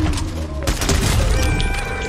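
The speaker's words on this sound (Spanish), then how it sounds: "No, le disparé, güey." A single gunshot in Fortnite cracks sharply and loud, close up, amid game noise and a voice talking, with a lingering echoing tail afterward.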